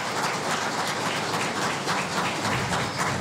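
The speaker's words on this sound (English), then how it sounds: "Let's give her a round of applause." A ceremonial audience at a cabinet ministers' swearing-in ceremony gives a sustained round of applause, dense and steady clapping filling the hall without a break.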